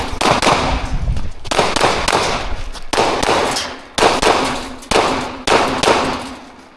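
Loud, sharp gunshots at a shooting competition range, five blasts spaced about a second apart, each with a ringing decay, close to the listener.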